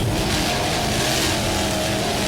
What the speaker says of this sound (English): It's a 37-foot Talon, powered by two 750 horsepower inboards.